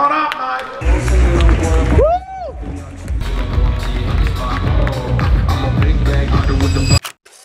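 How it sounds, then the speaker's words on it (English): A crowd bursts into sustained applause and cheering, dense and loud, continuing for several seconds before cutting off abruptly. "massive round of applause"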